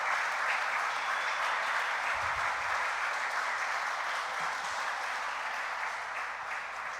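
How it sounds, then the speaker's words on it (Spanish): A church congregation gives a steady, dense round of applause that fills the whole stretch at an even loudness, with no talking over it. "Démosle un aplauso al Rey que vive."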